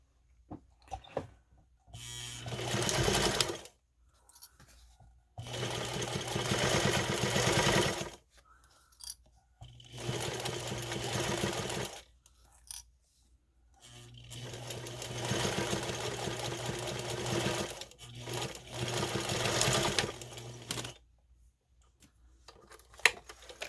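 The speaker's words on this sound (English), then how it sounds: "so we're going to sew our panels together at 3/8 of an inch" Sewing machine stitching fabric panels of a scrap-buster pouch together at a 3/8 inch seam, running in several sustained whirring bursts separated by pauses, close and clear with no talking.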